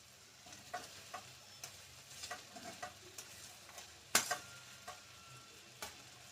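Half-boiled rice coated in ghee goes into a pan for egg fried rice, with a faint low sizzle under intermittent light clicks and scrapes of stirring, one sharper clink midway.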